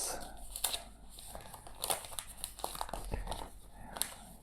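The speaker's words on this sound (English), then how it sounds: "let's unwrap this device now from its" A Honor Magic 4 Ultimate phone is unwrapped from its packaging, with close crinkling and tearing of plastic film in short bursts and a voice talking softly in between.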